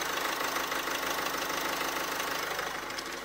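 A Chevrolet Trax with a 1.6-litre Ecotec diesel engine idles steadily, a continuous close, even diesel drone with a faint knocking clatter and no voices.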